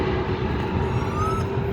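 A China Airlines airliner flying overhead at Stanmore: a steady, droning jet roar with a high whine, moderately loud and unbroken over a short span, no talk.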